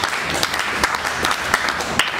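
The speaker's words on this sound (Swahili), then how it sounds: "Tupigie Mungu wetu makofi" A church congregation claps for God during a Friday worship service, a dense, steady wash of applause from many hands filling the room without a break.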